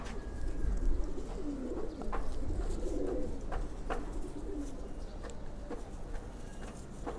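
Lalpatti pigeons coo in a continuous low, throaty murmur, several birds overlapping at close range with steady loudness throughout and no voices.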